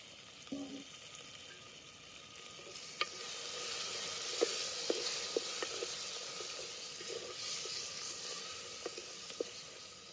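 Chopped tomatoes drop into a pan of hot oil with Marathi dhangari and goda masala, giving a soft, steady sizzle broken by small sharp crackles and pops, faint and close, with no talk.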